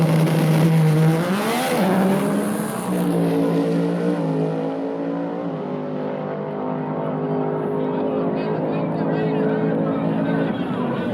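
A Ford Mustang drag racing car roars past at a drag strip, its engine note climbing through several rising gear pulls before settling into a sustained high whine that fades into the distance.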